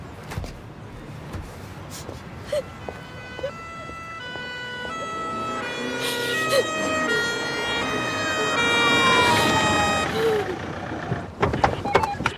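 An ambulance siren wails with rising and falling tones as it approaches and grows louder, then fades. Traffic rumbles underneath and there are a few clunks near the end.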